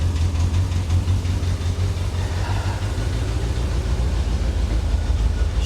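A Corvette engine runs rough and misfires at close range, a continuous low, uneven throb with a faintly pulsing beat and no voices over it.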